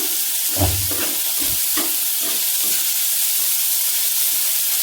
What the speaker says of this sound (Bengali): এই দেখো পেঁয়াজটা টমেটোটা একটু ভাজা ভাজা করে নেব